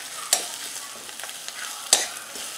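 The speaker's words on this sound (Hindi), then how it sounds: "अब इसे भी हम अच्छे से मिक्स कर लेंगे और इसे भी हम थोड़ा सा भून लेंगे" Garlic and vegetables stir-fry in a pan for a dhaba-style potato and capsicum dish, a soft continuous sizzle broken by two sharp scraping stirs of a spatula, with no talk.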